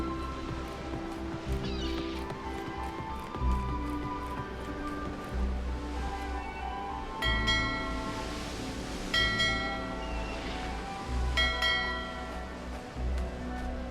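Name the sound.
bell ringing in 11-11 Memories Retold video game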